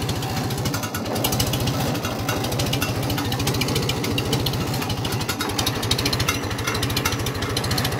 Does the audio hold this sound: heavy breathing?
no